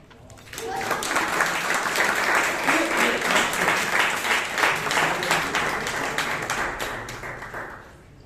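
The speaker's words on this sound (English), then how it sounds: "Kindly give a huge round of applause to Toastmaster Nihaan" Sustained applause from a large audience at a Toastmasters club meeting in Bangalore, dense and steady clapping that rises quickly, holds for several seconds, then fades at the end.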